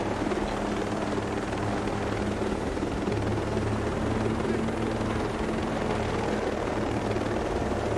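Helicopter in a video game flying steadily, a loud, continuous rotor drone and thrum filling the whole stretch at an even level.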